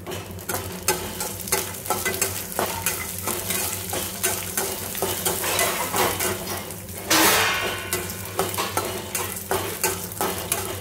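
Dried red chillies frying in a pan for an eggplant fry. A steady oily sizzle continues throughout, with repeated spoon scrapes and stirring clatter close by and no talking.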